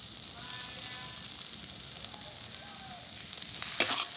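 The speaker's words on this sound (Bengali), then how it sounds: "এবার কিছুক্ষণ নেড়ে চেড়ে নামিয়ে নেব বন্ধুরা" Water spinach (kalmi shak) sizzles steadily in a hot pan as it is stirred, with a close, continuous frying hiss and a brief louder scrape near the end.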